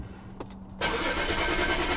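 A 2011-2016 BMW 535i F10 engine cranks briefly after a valve cover gasket replacement, then catches and settles into a steady, loud idle.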